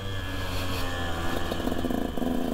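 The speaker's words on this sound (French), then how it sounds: "On va laisser la moto tranquillement chauffer." 125 SX motorcycle engine idling as it warms up: a steady, close mid-pitched drone with a faint higher whine rising near the end.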